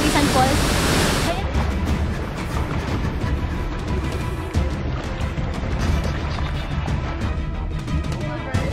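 Sampaloc Falls on Mt. Romelo, a waterfall roaring as steady broadband noise, loud and continuous throughout, with a brief louder, brighter rush in the opening second and no talking over it.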